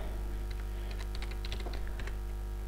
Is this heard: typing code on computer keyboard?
yes